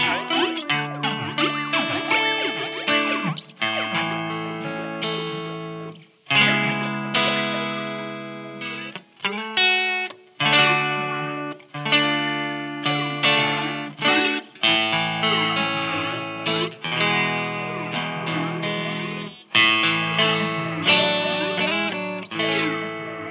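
An electric guitar runs through a Coolmusic modulator pedal set to tremolo and flanger, playing chords and short phrases. The tone sweeps and pulses, with brief pauses between passages and no talk over it.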